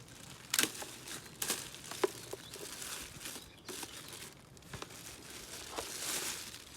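Plastic wrapping on a ceramic heater crinkles and tears in quiet, intermittent bursts close by, with soft rustles between them and no talking.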